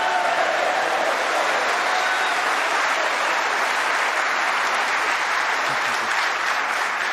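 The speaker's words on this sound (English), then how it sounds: "Great reaction from the crowd." Steady, loud applause from a snooker crowd in a 2025 Ronnie O'Sullivan versus Judd Trump final after a 103 century break, a dense uninterrupted wash of clapping lasting several seconds.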